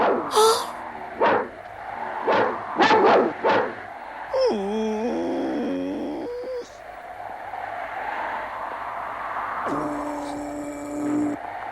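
Dogs in a French animated adventure series bark loudly in a quick burst of several sharp barks, followed by longer wavering tonal calls and whines that fade in and out against a quiet background.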